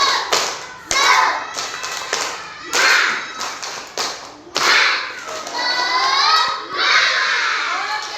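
A school group of teachers or students stands and performs the rhythmic tepuk semangat, loud bursts of patterned clapping with short pauses between phrases, mixed with lively voices chanting along.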